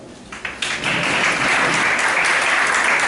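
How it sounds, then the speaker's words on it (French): Applause at a school project launch ceremony, a few scattered claps building quickly into loud, dense clapping from a large audience that then holds steady. "Mais vous devez applaudir aussi."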